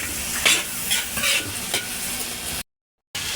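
Butter and rice fry in a pan for beef chaofan, a steady close sizzle with scraping stirs from a utensil, briefly cut to silence near the end before the frying resumes.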